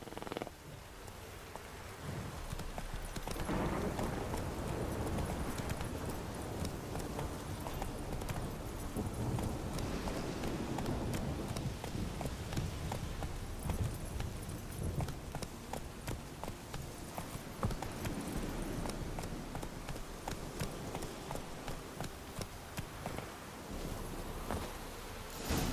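Horse hooves clip-clop steadily at a riding pace in The Witcher 3: Wild Hunt on PS5, a continuous rhythmic patter with a soft rain-like wash, no talking.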